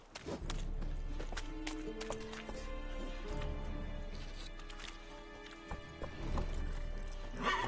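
Roach, the horse in The Witcher 3 video game, gallops with rapid, rhythmic hoof clip-clops, joined by a neigh and game sound effects, close and loud throughout.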